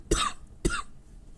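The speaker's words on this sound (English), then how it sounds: "I'm not trying to cough on the mic." Two sharp coughs in quick succession, close and fairly loud, followed by quiet.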